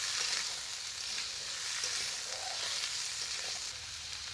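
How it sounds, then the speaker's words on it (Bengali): Potatoes, carrots and beans frying in hot oil, giving a steady, soft sizzle with light hissing crackle throughout, fairly quiet and continuous, no voices. "প্রথমে তেল গরম হয়ে গিয়েছে, আলুগুলো দিয়ে দিচ্ছি। গাজরগুলো দিয়ে দিচ্ছি।"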